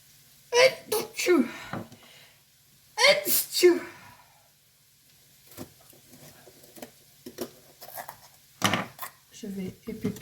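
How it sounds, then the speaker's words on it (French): A sneeze from a woman in a home kitchen while seeding peppers, two loud bursts close to the microphone with faint sniffs and small sounds afterward. "je vais éternuer."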